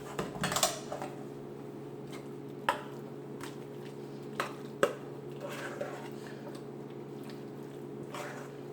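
A big spoon mixing turkey salad with mayo in a bowl, giving scattered clinks and knocks against the bowl and soft wet squelches over a quiet hum, fairly faint and close.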